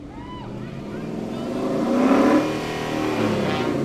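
Engine rumble from Mustang Club cars rolling past in a Veterans Day parade, a steady low drone that swells as they pass near, with crowd noise and talk over it.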